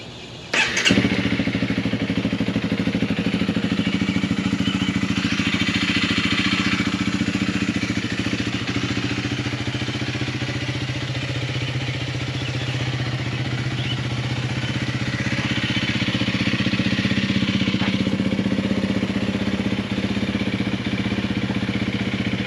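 A Honda CRF300L motorcycle fires up with a sharp start, then settles into a loud, steady single-cylinder idle heard up close, with slight swells in the engine note as it keeps running.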